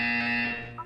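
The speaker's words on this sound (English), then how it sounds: "You will hear a buzzer." Buzzer from the video game Portal 2: one loud, steady electronic tone with strong harmonics that holds for most of a second, then drops off and ends in a brief warble.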